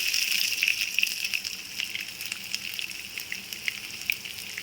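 Cumin and crushed garlic fry in hot oil for Andhra pappu charu, giving a close, continuous bright sizzle with small crackling pops and no talking.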